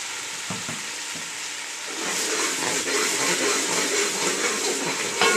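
Ground onion with ginger garlic paste fries in a pan for a fish head curry. A bubbling sizzle grows louder and denser after a couple of seconds, with a few light stirring knocks near the start.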